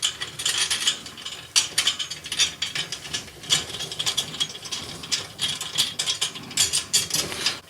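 Snare drum rim tension rods being loosened with a drum key, rapid ratcheting clicks in uneven bursts, close and crisp with no speech.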